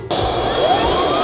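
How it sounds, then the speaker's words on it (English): A jet engine on a jet-powered sled spools up after a brief silence, a loud steady roar with a rising whine building over a second or so. "Booting up the jet, everything looked good"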